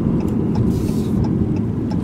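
A Chrysler 200 sedan cornering on the road, heard as a steady low engine and road rumble from inside the cabin, even and moderately loud, with no talk.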